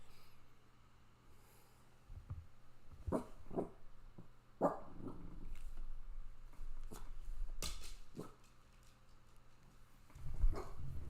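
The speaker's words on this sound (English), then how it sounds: "Hold on, my dog was barking." A dog barks several times in short, irregular bursts, with snorts and whimpery sounds between them, fairly close, in an otherwise quiet room.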